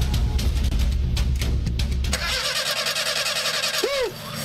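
A worn car engine cranks and sputters as it tries to start, a rough loud churning that gives way to uneven running near the end.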